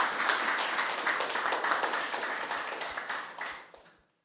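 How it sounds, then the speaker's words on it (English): Audience applause for a departing speaker at the GraphQL Wrocław tech meetup: a dense burst of clapping from a room of people that holds steady for several seconds before thinning out to a few last claps. "so please, big applause for Rob."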